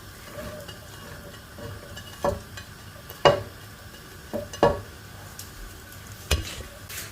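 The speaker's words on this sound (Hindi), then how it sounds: "ऑयल हमारा गर्म हो गया तो मैं इसमें ये प्याज डाल लूंगी।" Chopped onions frying in hot oil for Pakistani-style chickpeas, a soft continuous sizzle broken by several sharp clinks and scrapes of stirring, close and fairly quiet with no talk.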